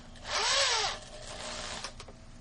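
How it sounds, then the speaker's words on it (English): A power drill whirs up in one short burst, then winds down, leaving a fainter scraping rattle of a spinning wire brush against metal inside a golf club hosel. "we're going to use this wire brush to clean the inside"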